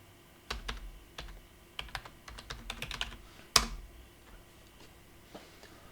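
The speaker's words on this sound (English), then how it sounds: "invite someone just by typing in their email" Fingers typing an email address on a computer keyboard, with irregular clicking keystrokes, a couple of quick flurries and one sharper, louder key strike partway through, close and clear with no talking.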